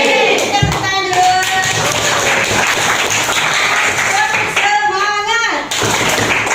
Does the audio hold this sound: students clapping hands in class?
yes